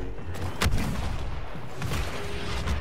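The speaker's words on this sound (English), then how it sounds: "Grenade!" A grenade blast in the video game Star Wars Battlefront 2: heavy booming bursts rumble amid rapid gunfire, loud and close, with no voices.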